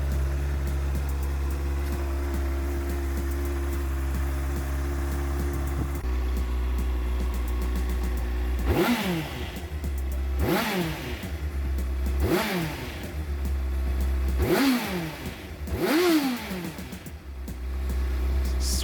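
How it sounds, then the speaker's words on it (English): A motorcycle engine idles steadily at close range, then is revved five times in sharp, evenly spaced bursts that swell and fall back to idle. "Let's give it a rev, get some gas flowing through the engine."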